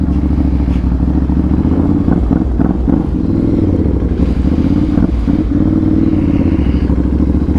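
A Ducati 796 motorcycle with a titanium exhaust idles and revs loudly up close, its deep, throbbing engine note swelling in several short blips over a constant rumble.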